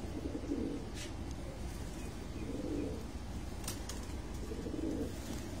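Pigeons on a rooftop coo in soft, low, repeated phrases spaced a couple of seconds apart over steady background noise, with a few faint clicks and no talk.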